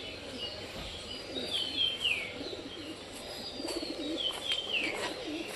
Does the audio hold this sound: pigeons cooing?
yes